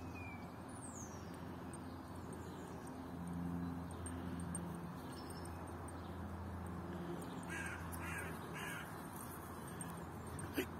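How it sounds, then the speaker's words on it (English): Crows caw repeatedly from a tree nearby, harsh calls scattered over a steady low outdoor rumble, with faint traffic in the background. "That tree's full of crows."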